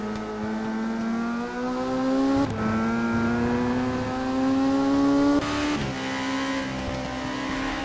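Onboard engine of a drift car at Oschersleben, Germany, revving hard with rising harmonic pitch sweeps as it powers through the final two corners, with brief gear-change dips. It stays loud, close and steady.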